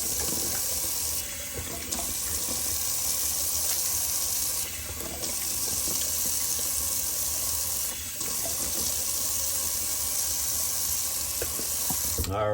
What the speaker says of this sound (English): a little quick cold water rinse